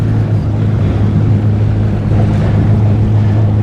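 A 2025 Yamaha WaveRunner VX Cruiser HO jet ski runs on open water with a steady, droning engine hum, carried on constant wind and water rush that stays loud and even throughout.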